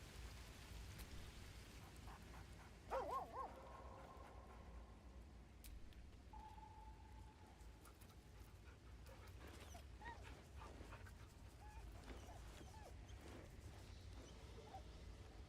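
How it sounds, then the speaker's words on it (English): A dog in the video game Baldur's Gate 3 gives a couple of faint, brief whimpering yips over a quiet, rain-like background hiss. "You can pet the dog."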